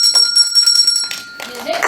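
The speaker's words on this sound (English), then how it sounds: "our illustrious timekeeper will ring the bell after 1 minute" A bell rung by the timekeeper at a university debating tournament quarter-final gives a bright, sustained ring for about a second, then fades as a voice begins speaking.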